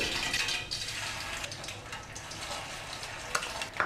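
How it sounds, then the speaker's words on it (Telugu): Aloe vera and fenugreek seeds dropped into two heated hair oils in a pan give a steady broadband sizzle with scattered crackles and a few scraping stir sounds, close and fairly loud, with no talking. "ఆ 2 ఆయిల్స్ కూడా కొంచెం మరిగిన తర్వాత కలబందని అలాగే మెంతుల్ని యాడ్ చేసుకోవాలండి"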